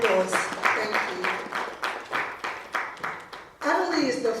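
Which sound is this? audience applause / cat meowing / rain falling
audience applause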